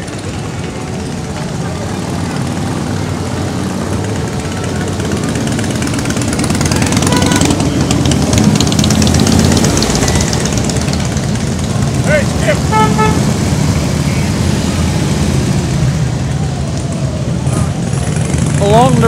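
American Legion Riders motorcycles rolling through a Memorial Day parade behind an old flag-draped truck: a loud, continuous rumble of many engines passing close, with several short horn toots near the end.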